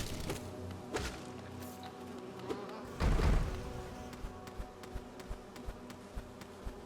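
Buzzing bees in the Hive area of the Hollow Knight video game, a droning hum running throughout under a sudden loud whooshing burst of effects and a series of soft regular ticks.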